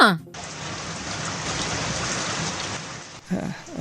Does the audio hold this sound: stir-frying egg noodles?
no